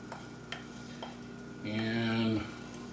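Cauliflower rice sizzles and scrapes as it is stirred around a frying pan, a few light utensil taps giving way to a louder, steady burst of frying and stirring.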